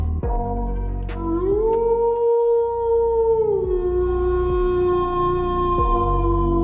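A dog howls as a staged sound effect in a Thai audio drama, one long rising wail that holds its pitch and then slides lower, with a strong, sustained tone over a low rhythmic music bed.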